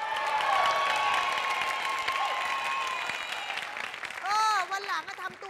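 An audience applauds a performer on a Thai variety show after a beatbox demonstration, a steady wash of clapping that gives way to a voice speaking near the end.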